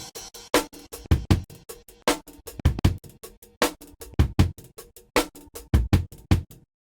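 A drum sample stretched in Kontakt with many small audio slices plays alone as a rapid, stuttering run of short, clipped hits in an irregular glitchy rhythm, stopping abruptly near the end.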